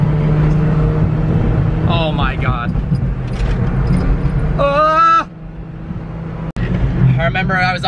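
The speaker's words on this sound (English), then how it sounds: "We're full tilt mobbing in a Prius right now." Modified Toyota Prius driving fast, a steady engine and road drone running loud throughout, with people talking and exclaiming over it and a brief dip near the end.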